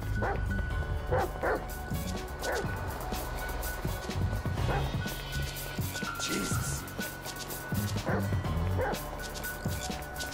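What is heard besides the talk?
dog Chop barking, from video game Grand Theft Auto 5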